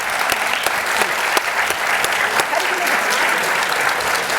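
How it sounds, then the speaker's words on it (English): An audience at a campus free-speech panel event applauds its guests with loud, sustained clapping, many hands at once in an even, continuous roar lasting several seconds. "Can we give a big round of applause to our wonderful guests?"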